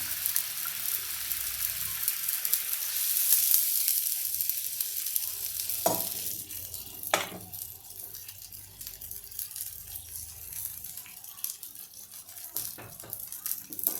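Two bowls of water added to a hot pan during semolina cheese ball preparation, giving a gushing splash and sizzle with scattered clinks and stirring, moderately quiet and continuous.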